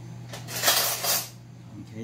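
A spoon beats eggs in a bowl, giving quiet, rapid clinks and scrapes against the dish in a short burst that fades.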